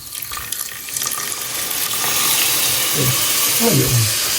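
Water poured into a pot of cooking rice, a steady broad hiss and splash that swells and holds loud to the end, with a short gurgling burst near the close.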